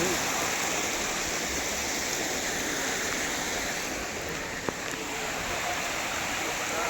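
Water flowing steadily at Lonar lake in Maharashtra, a constant broadband rushing like a small stream or trickling inflow, close and even throughout, with one brief click near the end.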